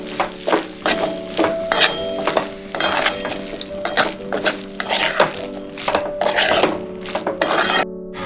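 A spoon clatters and scrapes against a metal pot as coriander is stirred into a Gujarati vegetable dish, with rapid irregular clinks and knocks over a faint sizzle.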